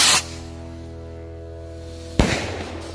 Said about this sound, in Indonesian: Itu dia dari mercon King Rocket.